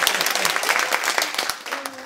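A studio audience at a public broadcast recording gives a short burst of applause, a dense crackle of clapping heard under someone speaking.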